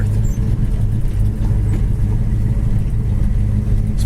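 A 1966 Chevy Chevelle engine drones steadily from inside the moving car, a deep continuous rumble that holds without a break and shows no sharp revs.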